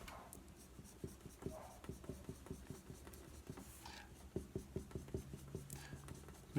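Dry erase marker drawing on a whiteboard, a Minecraft Evoker being sketched and filled in black: a steady run of short squeaky strokes and taps, close and fairly quiet, with no talking.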